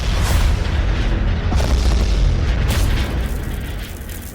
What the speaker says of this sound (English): an explosion rips through the air and engulfs them both and you in an inferno of pain